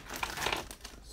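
Crinkly plastic foil wrapper of a Pokémon Shining Legends card pack being twisted and torn open by hand, a dense burst of close, loud crackling over about a second.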